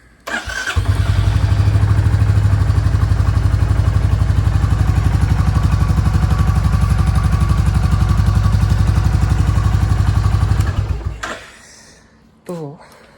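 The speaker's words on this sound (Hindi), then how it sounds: "बाइक है न्यूट्रल पे, इसको करते हैं स्टार्ट।" A Royal Enfield Classic Reborn motorcycle in neutral fires up and settles into a loud, steady thumping idle for about ten seconds before shutting off, recorded up close, followed by a brief voice.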